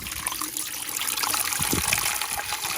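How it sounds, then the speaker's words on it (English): Water pours steadily into a cooking pot with an even, close gush that lasts the whole stretch, and no voices are heard. "put enough water."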